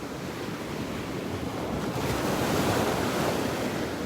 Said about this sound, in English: You can hear the waves behind me.